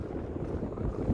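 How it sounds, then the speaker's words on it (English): Wind gusts roar steadily across the microphone on the exposed summit of Mount Lafayette in New Hampshire, a low, continuous rumble with no voices. "It is windy."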